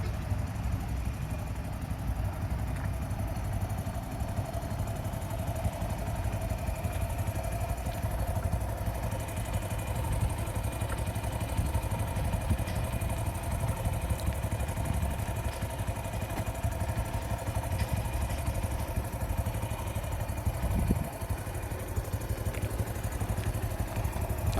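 A motorcycle engine runs steadily throughout a bike driving lesson at a Khulna driving school, a continuous mid-pitched drone with some mechanical clatter and no pauses.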